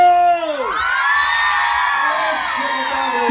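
A live audience at a guaracha dance show in Santiago shouts and whoops in a sustained, rising cheer, with a loud drawn-out yell dominating and crowd noise underneath.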